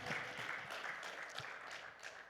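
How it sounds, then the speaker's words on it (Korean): Thin, scattered applause from a church congregation at a revival meeting, faint and distant, made of a few soft claps over room noise. "박수 소리가 시원찮네."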